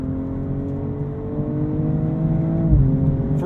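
BMW M240i xDrive coupe's inline-six, 2022 model, revving steadily close up, its tone rising with a shift-like dip near the end, a continuous throaty engine note with no talk.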